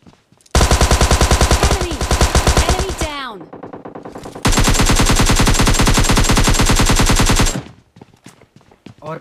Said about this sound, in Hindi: बाहर से बहुत तगड़े वाले भाई फायर साउंड आ रहे